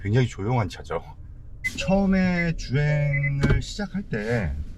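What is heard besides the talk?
No everyday noises stand out.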